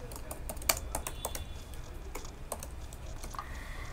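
Computer keyboard typing while writing React code, a steady run of light clicky keystrokes with an occasional sharper tap, close and alone.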